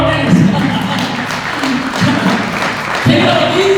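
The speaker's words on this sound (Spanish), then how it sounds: "Denle un aplauso al Señor por estos varones." A church congregation at a Sunday service applauds steadily in a large hall, the clapping sustained and fairly loud, with voices mixed in throughout.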